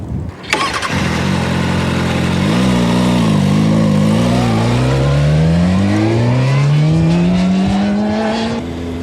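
A motorcycle engine fires up sharply, then revs with steadily rising pitch as the bike pulls away and accelerates during a countersteering test ride, loud and close throughout.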